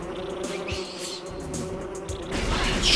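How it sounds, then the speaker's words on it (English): Bees buzzing in the video game Metroid Prime Remastered, a steady droning insect hum with layered wing whine that swells and fades slightly, fairly quiet and continuous with no speech. "Shut up, bees."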